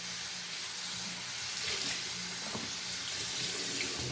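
Warming tap water pours steadily into a bathroom sink, a close, constant hissing splash that stays even and unbroken throughout, with no voices.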